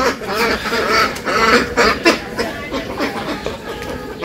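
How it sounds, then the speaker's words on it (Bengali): Ducks in a village setting quack in repeated close bursts, loud and irregular, with a faint human voice underneath. "তাহলে হাঁস যাইতে দাও"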